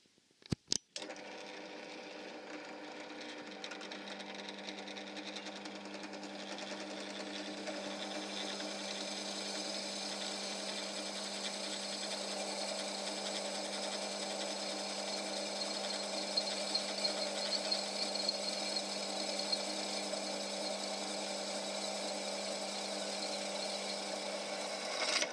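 A power tool drives bolts through hinges on a metal folding fire pit, a steady whirring drone with a bright buzzy tone that runs continuously for most of the clip after a short click at the start.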